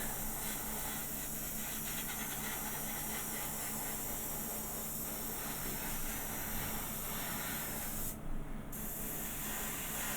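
Spray paint from a can laid as a light coat onto an Airfix Doctor Who model kit gives a continuous, steady hiss that runs unbroken throughout, close and fairly even in level.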